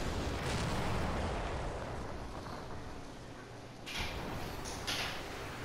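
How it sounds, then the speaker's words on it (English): Homing missiles launching in the online aerial combat game Strike Vector EX, a rumbling burst of engine and launch noise followed by sharp whooshing bursts near the end, with no voices. "I'm like launching my homing missiles and then I keep moving"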